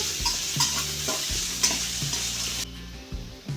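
Sliced onions, green chillies and curry leaves frying in hot oil, a loud close sizzle with continuous stirring and scraping, the hiss dropping off sharply near the end.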